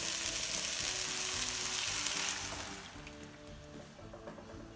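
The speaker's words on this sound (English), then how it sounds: "just does something when you really go ahead and saute the vegetables first, right?" Vegetables for sweet and sour fish sauté in a hot pan with a bright, dense sizzle that fades after a couple of seconds into quieter frying as they are stirred, close up.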